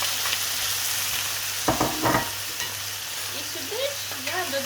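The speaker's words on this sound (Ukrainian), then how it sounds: "Коли цибуля ось так підзолотилася, повертаю до сковорідки м'ясо." Meat and golden onions sizzle steadily in a frying pan. A few scraping stirs cut through the constant hiss near the middle of the clip.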